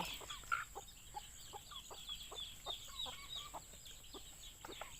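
Chicks and ducks on a farm among rice fields give short, repeated chirping calls in a quick, uneven rhythm, with a few louder peeps standing out over a faint outdoor background.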